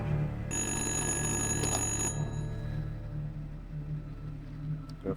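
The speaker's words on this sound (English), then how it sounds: "The phone ringing." An old telephone rings in the video game Little Hope, a bright trilling bell that sounds for about two seconds, then lower ambient hum continues with a faint click at the end, no talk.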